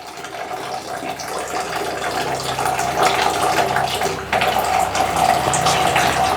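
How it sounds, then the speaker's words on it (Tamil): An electric instant water heater heats and boils water with its tap closed, giving a steady rushing, bubbling hiss with no voices present. "இப்போ தண்ணி வந்து கொதிக்கிறது உங்களால் லைவாக பார்க்க முடியும்."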